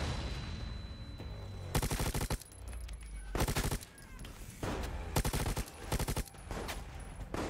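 Rapid bursts of gunfire from the Resident Evil Resistance video game, with loud automatic volleys repeating in short clusters separated by brief pauses.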